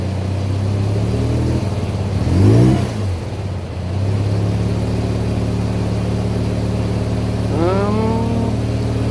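Mazda RX7 FC rotary engine, warmed to operating temperature, idling steadily then revving briefly twice as the gas is touched, the pitch rising and falling each time, close and fairly loud.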